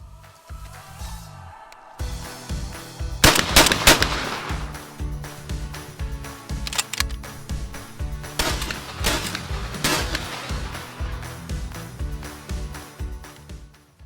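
A Winchester SX4 semi-automatic shotgun fires several sharp, loud shots at close range, spaced a second or two apart, each followed by a brief ringing decay.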